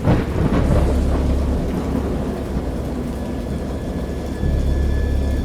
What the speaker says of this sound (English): I have indistinct recollections of a great storm sometime after I reached the boat.